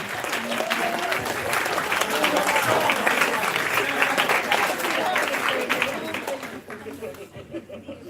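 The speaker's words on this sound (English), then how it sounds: "Round of applause for the abandoned baby." An anime convention audience gives a round of applause at a closing ceremony, dense clapping sustained for several seconds with chatter and laughter, then fading out near the end.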